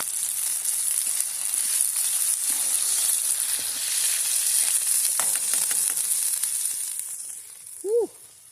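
Food sizzles steadily in a frying pan with a constant bright hiss, a few clinks of stirring partway through, and a short vocal exhale near the end.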